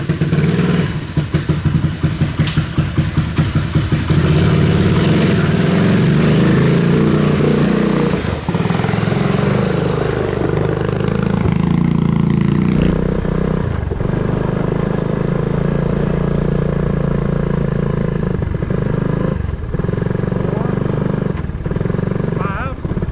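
A neglected 1986 Honda ATC250 Big Red three-wheeler runs loud and steady up close, its engine drone holding throughout with clattery mechanical noise and a brief dip partway through.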